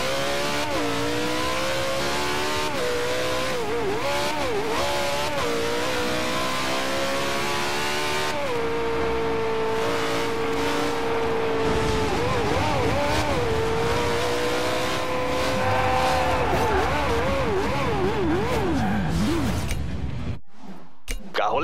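A car racing in Forza Horizon 2 roars steadily close up, its engine rising and falling through gear changes and revs with occasional tire noise, continuous for about twenty seconds before cutting off.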